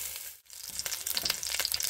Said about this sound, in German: Das lassen wir jetzt alles scharf anbraten.